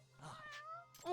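A cat meows once in the Judgment video game, a short mid-pitched cry that ends as a voice starts talking over it.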